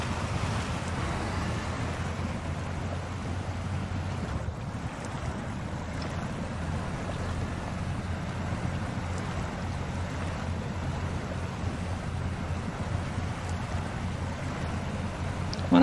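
A truck in the video game SnowRunner pushes through water, giving a steady low engine rumble with a broad washing, sloshing hiss that stays constant throughout, with no clear speech.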